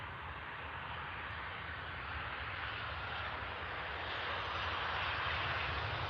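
A Ryanair Boeing 737-800 airliner arriving on runway 05R at Manchester Airport, its engines a loud, steady broadband roar that swells slightly toward the end as the jet passes near, with no talking.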